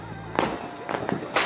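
Sky-shot fireworks burst during Diwali celebrations in Kotdwar: several sharp, loud cracks and booms in quick succession at middle distance.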